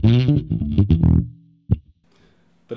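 A bass guitar runs through a Lounsberry Mo Bass pedal with the clean boost up and the drive turned down, giving a lightly gritty tone. A few plucked notes ring out loud and close, with a held note fading and a last note at the end.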